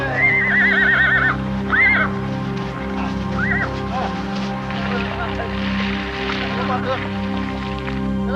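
Pack horses on a snowy mountain trail give several shrill, quavering neighs up close, early and midway, over a low steady drone while someone talks.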